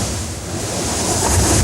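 Ocean waves surge under a lava shelf and burst up through the Spouting Horn blowhole on Kauai's coast, a loud, continuous roar of surf and spray with wind buffeting the microphone.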